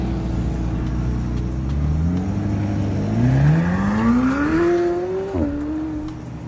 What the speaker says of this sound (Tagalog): Tapos grabe dito yung purple na Porsche guys, sumarurot dito, ganda ng exhaust niya men, pakinggan nyo.